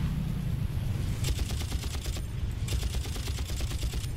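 Rapid automatic gunfire in a Far Cry shooter game, a dense fusillade of crackling shots in two sustained bursts with a brief gap, loud and close over a low rumbling background.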